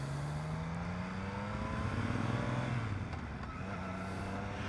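A 2021 Triumph Street Triple RS motorcycle pulls away and accelerates. Its engine note climbs steadily over continuous wind rush, heard close up from the rider's position with no talking.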